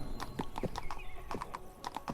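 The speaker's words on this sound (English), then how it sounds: "We have to worry about our stamina now, since we're riding a horse." Horse hooves clop in a steady, quick rhythm as a horse is ridden in the video game Shadows over Silesia, close and clear with no talking.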